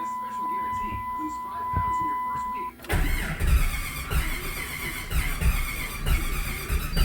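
A warm 1996 Jeep Grand Cherokee with throttle response trouble cranks briefly and starts, settling into a loud, steady idle up close after a few seconds of quiet cabin background.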